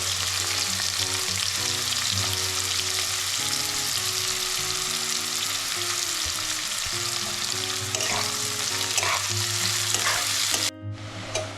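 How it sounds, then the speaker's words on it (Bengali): Sliced onions frying in hot oil with two dried red chilies, a loud constant sizzle with occasional stirring scrapes near the end, alongside a steady background musical drone. "যে পেঁয়াজ আমি কেটে রেখেছিলাম সেই পেঁয়াজগুলো হালকা লাল লাল করে ভেজে নেব।"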